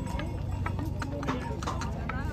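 Donkey hooves clip-clop on a mountain trail on the Kedarnath pilgrimage route, a steady irregular patter of hoof strikes close by under constant wind and crowd noise, with people talking.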